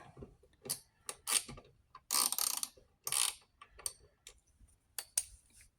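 A Craftsman V Series ratchet clicks up close, in short bursts of rapid pawl ticks separated by brief pauses, with no voices.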